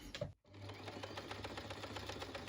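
A sewing machine running a 1 mm stitch along a seam while making an embroidered dress, starting after a brief pause and then stitching in a fast, even rhythm, close and clear.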